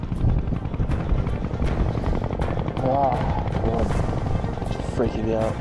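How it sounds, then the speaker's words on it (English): A rescue helicopter approaches a high mountain site at about 4,480 m, its rotor a loud continuous chopping throb, with voices talking over it. "Chopper's coming in."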